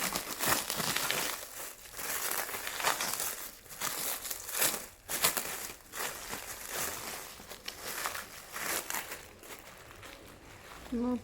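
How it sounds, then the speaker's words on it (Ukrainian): Plastic film crinkling and rustling as it is peeled away from a new rose plant, a steady run of close crackles with brief louder tearing bursts. "Зараз будемо розгортати цю плівку."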